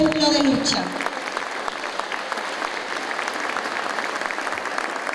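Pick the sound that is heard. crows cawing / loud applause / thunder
loud applause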